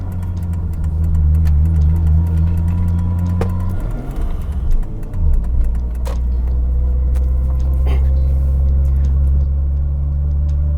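Engine of a 2002 Lexus IS300 with a manual chassis run by an automatic ECU, pulling up a hill: a loud, steady low drone, with a brief shift in pitch midway before it settles back into a strong, even hum.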